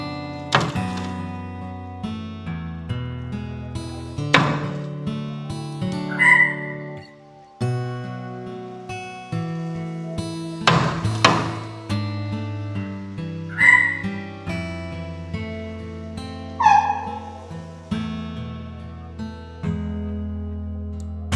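Repeated bird calls ring out at intervals over a steady low background hum, with occasional sharp knocks in between.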